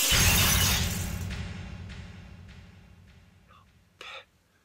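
A thrown stone smashes through a window pane, giving a loud, bright burst of shattering glass that rings and fades over several seconds with scattered tinkling, then a brief vocal sound at the end.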